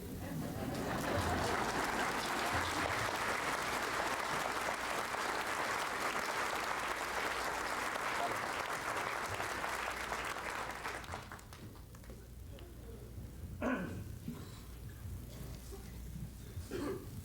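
Sustained applause from a large audience in Honolulu welcoming a dignitary, dense and steady for about eleven seconds, then thinning into scattered claps and murmuring.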